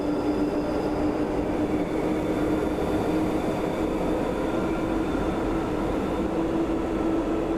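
Train in Train Sim World 4 approaching a terminating station on a 2% gradient, a steady continuous rumble and rolling drone with a faint high whine, unbroken and fairly loud throughout, no talk.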